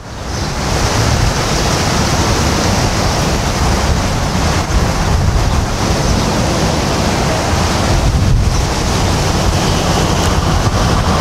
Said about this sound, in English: Big waves, big troubles. It's a powerful wave.